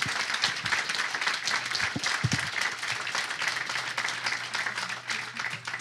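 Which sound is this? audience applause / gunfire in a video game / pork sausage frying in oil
audience applause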